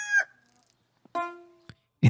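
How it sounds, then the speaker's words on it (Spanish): Rooster crowing: a nearby cock-a-doodle-doo with a short call at the start and a fuller drawn-out crow after a pause, loud and alone over silence, then a low thump at the end. "Y el gallo cantó"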